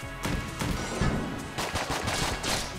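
Handgun shots in the Enter the Gungeon video game, rapid loud pops fired in quick succession over busy game sound, with no talking.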